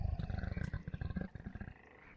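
Creatures in the Sevtech Ages modpack for Minecraft, in the Betweenlands, growl in a loud, rough, pulsing roar that rises and falls over a couple of seconds.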